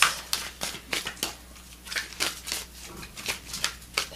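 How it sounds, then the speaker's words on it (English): Fortune reading cards are shuffled and drawn by hand, giving a close, quiet run of papery flicks and slides in irregular bursts, with no one talking. "let's pull some more cards from the fortune reading cards"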